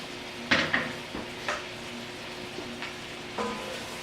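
Raw shrimp dropped into a hot pot for seafood chowder, a few clinking metallic taps and soft sizzling splashes over a quiet kitchen hiss.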